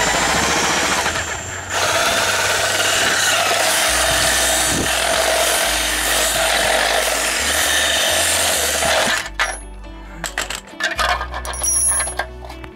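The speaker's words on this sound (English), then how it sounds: "I'm drilling a hole." A loud, continuous drilling and grinding into a brick wall runs for about nine seconds, then breaks into a few shorter bursts and clatters.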